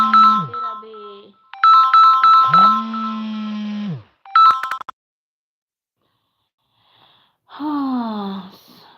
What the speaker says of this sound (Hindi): फोन आ गया था दोस्तों।